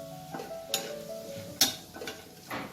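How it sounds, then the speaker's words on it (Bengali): Black cumin seeds tempering in hot white mustard oil are stirred in a pan with a utensil, making several distinct sharp clinks and taps against the metal over a faint sizzle. The sound is close and sparse, and no one talks. "জিরেটাকে কিছুক্ষণ আমি নাড়াচাড়া করে নেব।"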